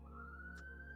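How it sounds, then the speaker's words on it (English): A distant siren wails faintly through an open window into a computer room, a single rising tone over a steady low room hum, with a short soft noise burst partway through. "Pardon the sirens."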